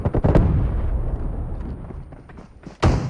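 Loud gunfire in the battle royale game PUBG Mobile: sharp booming shots at the start, then a decaying rumble, and another heavy blast near the end.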